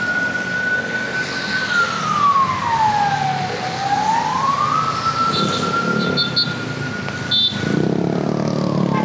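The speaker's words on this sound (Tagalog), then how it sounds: "Maraming ang dumadaan ng mga emergency response team eh. Ayan, ang mga ambulansya." Ambulance siren wailing past on a street in Pasig during a super typhoon, a single rising and falling tone carried over wind and traffic noise, loud and steady, with a few brief clatters near the end.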